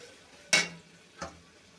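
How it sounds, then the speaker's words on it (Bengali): Spice paste for a rohu-style fish curry with potatoes and pointed gourd is stirred in a hot pan, giving two short, sharp scraping bursts about a second apart with quiet in between. "মিশিয়ে ভালোভাবে একটু কষিয়ে নেব।"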